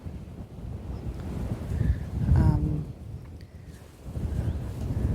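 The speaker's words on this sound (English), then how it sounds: "Problem with the wind again, buffeting" Strong wind buffets a microphone outdoors on a cliff top in Cornwall, a loud low rumbling roar that swells and eases in gusts, with a faint tonal whine partway through.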